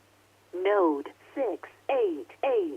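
Amateur radio node connection tones on a weekly ham radio net: four short descending warbling beeps in quick succession over a steady low hum, loud and clear.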